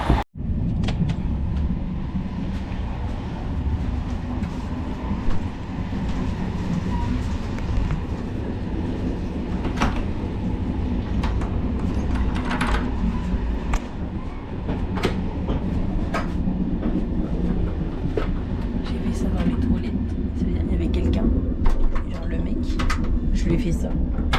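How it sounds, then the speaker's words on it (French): Rumbling railway noise heard while walking through the connection between two passenger cars on a mountain train ride, a steady loud low roar with occasional clanks and rattles across the whole stretch, with a speaking voice at times. "On passe entre les deux wagons."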